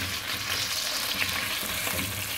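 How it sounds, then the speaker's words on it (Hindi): Arvi (taro root) frying in hot oil, a dense steady close sizzle and crackle filling the whole short stretch with no voice. "अब इसको इसके अंदर हम भूनेंगे ऑयल के अंदर।"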